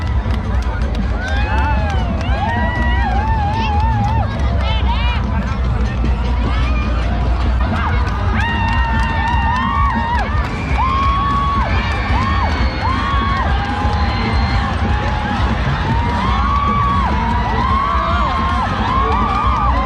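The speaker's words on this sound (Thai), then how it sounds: "โอ้นี่กองเชียร์คุณ" Cheering squad at a Thai village boat race festival, a loud crowd shouting, whooping and chanting in rhythmic bursts close by, with a voice talking over the din.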